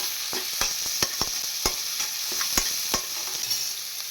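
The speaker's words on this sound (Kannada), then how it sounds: "ಎಲ್ಲ ಮೆಣಸಿನ್ಕಾಯಿ ಹಾಕ್ಕೊಳ್ಳೋಣ ಕಟ್ ಮಾಡಿಕೊಂಡಿರುವಂಥ ಈರುಳ್ಳಿ ಕಡ್ಡೆ ಹಾಕೊಳ್ಳೋಣ ಮಿಕ್ಸ್ ಮಾಡ್ಕೊಳ್ಳೋಣ ಚೆನ್ನಾಗಿ" Green chillies and chopped onion stirred in a pan over low heat, a steady sizzle broken by repeated sharp scrapes and knocks of the spoon at irregular intervals, close and clear with no voices.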